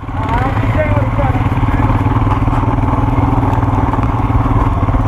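A motorcycle climbing uphill in first gear on a mountain pass road, its engine struggling and failing to rev, a loud, steady, close chugging drone with rapid pulsing that goes on throughout.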